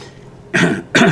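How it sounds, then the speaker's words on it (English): Two short, loud bursts of a man clearing his throat, close to the microphone, with a brief pause between them and no speech. "Let me clear my throat and start over."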